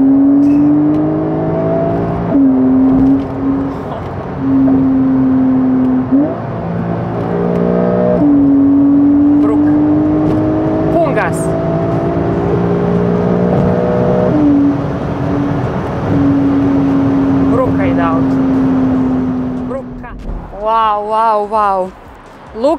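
A Porsche 911 Carrera accelerates hard, its engine note climbing steadily through several gears with brief dips at each shift, loud and close from inside the car, ending with a short burst of voices.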